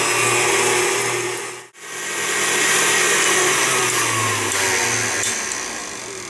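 Electric mixer whipping lard at medium speed for tamale masa dough, a steady loud whirring motor hum that drops out briefly then resumes, running continuously on its own.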